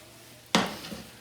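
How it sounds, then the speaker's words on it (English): Brussels sprouts with shallots and garlic hitting a hot pan, a sudden broad sizzle that flares loud then settles into a softer crackle, with a faint clatter of the pan being tossed. "we're just going to let them saute for a few minutes"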